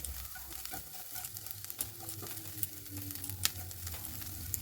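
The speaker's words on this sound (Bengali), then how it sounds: "আমার এগুলো আর একটুখানি ভাজতে হবে।" Quiet, steady sizzling of food frying in a pan, with faint crackles and a few soft scraping knocks throughout.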